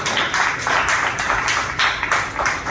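Audience at an open-mic poetry night claps continuously, a dense, even patter of many hands in a small room that keeps going with slight swells and no talking.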